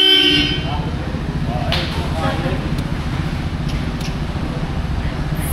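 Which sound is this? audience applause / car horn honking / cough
car horn honking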